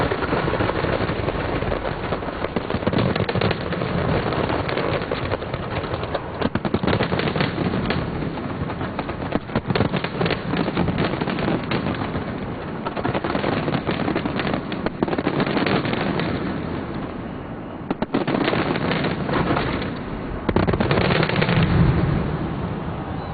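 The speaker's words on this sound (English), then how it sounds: "You don't see fireworks like this every day, so sit back and enjoy this amazing display." London New Year fireworks display, a long continuous barrage of booming bursts and crackling explosions, loud and dense throughout with brief lulls, heard from a distance with no talking.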